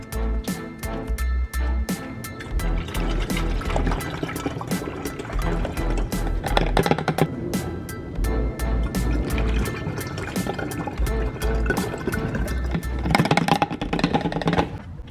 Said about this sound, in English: Just pour all the damn dye in here and you can pressurize it